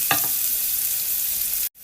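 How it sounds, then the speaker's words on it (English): Onions frying in a pan with hamburger patty drippings, a steady close sizzle with a brief stir near the start and a short cut of silence near the end. "all the drippings or the meat that was cooked on the bottom of the pan is being cooked in with these onions"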